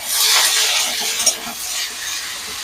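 Okra frying in a pan with salt and turmeric, ahead of fish eggs being added, gives a steady, close, loud sizzle and hiss with a brief stirring scrape partway through, no voices.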